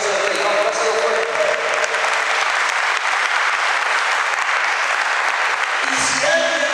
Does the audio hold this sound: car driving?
no